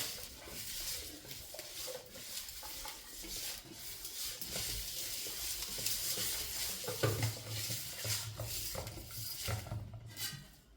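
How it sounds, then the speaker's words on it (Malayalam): Raw prawns are stirred into a sizzling Kerala-style prawn curry in a pan, with steady frying hiss, scraping strokes and occasional utensil clinks against the pan throughout, no voices. "എന്നിട്ട് ആ ചെമ്മീൻ നമ്മൾ അതിനകത്തേക്ക് ഇടാം. എന്നിട്ട് ഒന്നും കൂടി ഒന്ന് യോജിപ്പിക്കാം."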